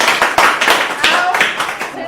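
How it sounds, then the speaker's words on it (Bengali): A small group claps loudly and quickly for a girl's turn in a ball drop party game, with a dense burst of hand claps that tails off slightly toward the end. "চলো সুমির জন্য একটা জোরে হাততালি"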